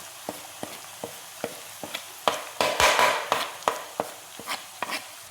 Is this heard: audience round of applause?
no